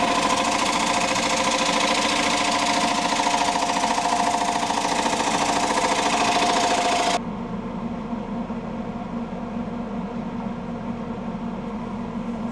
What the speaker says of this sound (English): Two knots in the bottom of the platter cause that hammering sound.